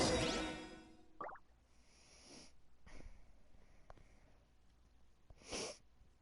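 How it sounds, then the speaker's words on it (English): Several short nasal sniffles at scattered intervals, close and fairly quiet, with a sharper burst at the start and near the end, no talking. "Sniffling."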